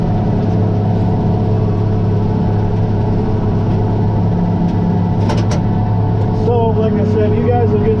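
A John Deere D17 Series 4 tractor engine drones steadily and loudly from inside the cab while mowing ravines, a constant low rumble with a brief clatter near the end.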